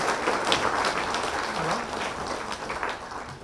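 An audience applauds steadily at a spiritual gathering in honour of Brahmarshi Patriji, a dense continuous wash of many hands clapping together that holds for several seconds with no clear voices above it.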